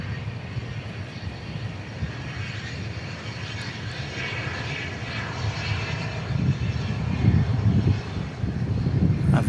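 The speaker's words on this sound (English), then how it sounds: "An Embraer Phenom" Embraer Phenom 300 business jet at a Dallas Love Field plane-spotting session at night, engines producing a steady loud roar that builds slightly toward the end, heard alone without talk.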